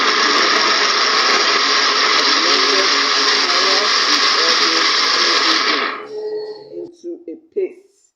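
Blender whirring carrots with oil into a paste for carrot stew, a loud, steady motor roar for about six seconds that cuts off abruptly, followed by a few brief spoken words.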